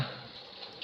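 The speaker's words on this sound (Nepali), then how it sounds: "सो यता चाहिँ सिमसिम पानी परेको छ" Light drizzling rain comes through as a soft, steady hiss of fine drops, quiet and continuous through the short moment, with no voices.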